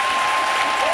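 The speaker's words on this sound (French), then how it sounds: "Vous avez applaudi pour Jésus" A church congregation applauds for Jesus, a brief, loud, dense burst of crowd clapping with a steady tone running beneath it.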